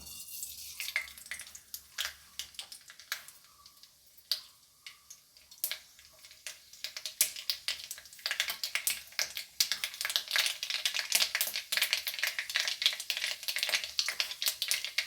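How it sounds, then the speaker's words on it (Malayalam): Mustard seeds splutter in hot sesame oil for a Kerala mustard mango pickle, starting as sparse sharp pops and turning into a dense, close crackle, with no talk. "അപ്പം നമ്മുടെ എണ്ണ ചൂടായി വന്നപ്പോൾ നമുക്ക് കടുക് ഇട്ട് കൊടുക്കാം"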